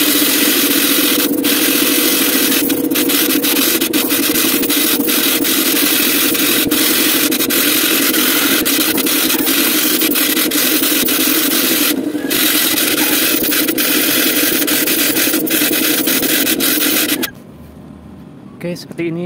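An air compressor drives a spray gun painting a helmet, making a loud constant hissing rush with engine hum beneath and scattered clicks, ending abruptly as the spray stops.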